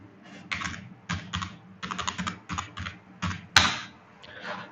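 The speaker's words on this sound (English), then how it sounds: "I just type this password here" A password is typed on a computer keyboard in short bursts of close, crisp key clicks with pauses between them, ending on a sharper keystroke that is probably Enter.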